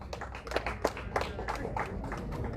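An audience claps for a group of youngsters, giving a dense, continuous round of hand claps at moderate loudness with a few sharper claps standing out.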